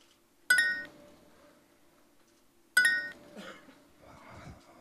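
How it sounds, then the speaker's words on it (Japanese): Two bright electronic chimes from a walking-assist robot ring a couple of seconds apart, each fading quickly, over a quiet background with faint shuffling movement. "このように チャイム音を鳴らすことでうまく歩けていることを本人に知らせます"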